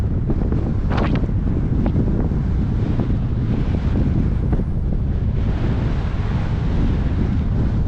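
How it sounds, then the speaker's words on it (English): Wind buffets a camera microphone on a gravel trail ride near Lake Apopka, making a constant loud, rumbling roar with gusty low thumps. No one speaks. "I don't know if my camera's picking up the wind or not, the sound of it"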